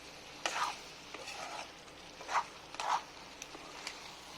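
Chicken meat frying uncovered in chicken oil, stirred often in the pan, giving a faint sizzle broken by several short scraping strokes from the stirring.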